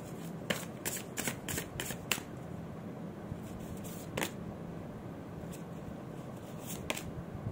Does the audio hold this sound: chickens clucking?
no